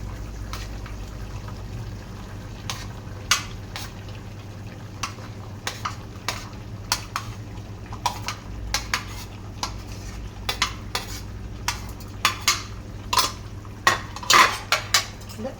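A metal spoon clinks and scrapes against a pot in repeated strokes stirring vegetables into chicken curry, growing busier toward the end over a soft sizzle.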